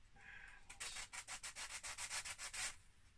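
A part from an Acorn BBC Master Compact computer is sanded by hand, giving a rapid run of about fourteen rhythmic, close rasping strokes over roughly two seconds, with no talking.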